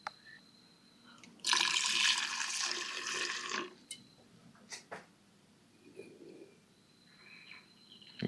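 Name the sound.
fuel filling the carburetor fuel bowls of a 1982 Yamaha 650 Seca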